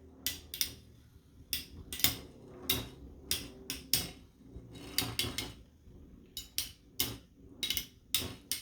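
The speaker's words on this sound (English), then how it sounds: "I love that whirring sound. When the Beyblades are going, you hear it." Metal Beyblade tops spin and collide in a plastic stadium, giving repeated sharp clacking hits in irregular bursts over a low steady whir, close and fairly loud with no talking.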